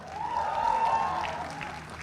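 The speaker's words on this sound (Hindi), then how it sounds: "ताली बजाओ एक बार जोरदार" Audience clapping at a Bigg Boss OTT 3 event, a steady wash of applause that swells and fades over about two seconds, moderately loud, with a faint murmur under it.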